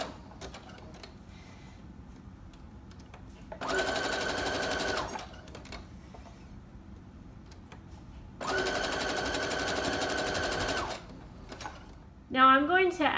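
A sewing machine stitches decorative lines on a fabric patchwork hardcover journal cover in two sustained bursts, each a few seconds of rapid, even whirring. Quieter handling noise and brief talk fill the gaps between them.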